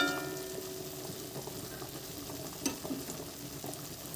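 Spice paste with onion, salt, cumin and coriander powder sizzles and fries in oil for doi katla, a Bengali yogurt fish curry. A close, steady crackle runs throughout, with a few sharp clicks of stirring.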